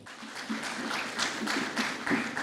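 A crowd claps at a formal Swachh Bharat Mission event as CR Patil is welcomed to the stage, moderately loud applause rising in waves, with faint speech mixed in.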